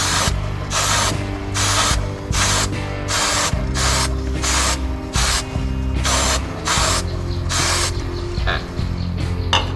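Short bursts of chain cleaner spray hiss repeat steadily onto a Ducati Monster 937 motorcycle chain, a dozen or more, close and loud, with a low mechanical drone and occasional ratcheting clicks beneath.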